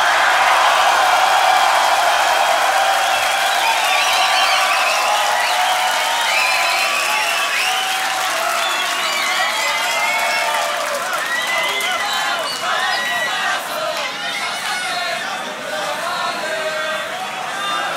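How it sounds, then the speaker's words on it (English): Sustained loud cheering, whistling and applause fill a beatbox battle quarterfinal venue, a dense crowd roar that slowly eases off slightly over its length. "Make some noise for COLAPS."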